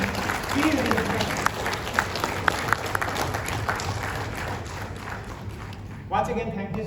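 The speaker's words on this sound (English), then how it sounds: "let's hear a big round of applause for yourself" Applause from the audience at a motivational speaking event at Canara Bank, a dense steady clapping that fills the room, with a few sharper thumps and a voice cutting in near the end.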